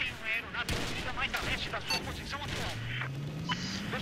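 A gunshot in the video game Battlefield 4 cracks out sharply amid a dense, continuous bed of game noise and distant gunfire, with a rising engine-like tone toward the end.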